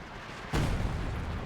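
A single artillery blast in a strategy game match lands abruptly after a quiet ambient lead-in, a deep low boom that rolls on and lingers under steady battlefield noise.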